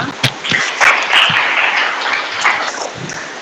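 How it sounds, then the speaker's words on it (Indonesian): Applause from a crowd, a steady patter of clapping hands that holds at a fairly even level throughout. "Tepuk tangan untuk kita semua."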